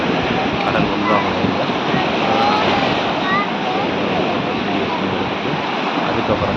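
Steady, loud surf rolls continuously at the seashore in Tiruchendur, a broad unbroken wash of breaking ocean waves with no distinct pauses.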